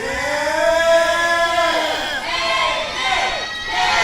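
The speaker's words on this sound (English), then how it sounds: "The crowd solidly behind KJ, as you can hear." Wrestling event crowd cheering and shouting loudly in rolling waves of voices, close and continuous without pause.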